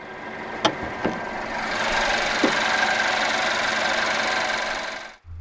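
A 2016 Mercedes-Benz C 200 Estate's 2-litre turbocharged inline-4 petrol engine runs at a steady idle with a broad, even hum, a few sharp clicks near the start, then cuts off abruptly.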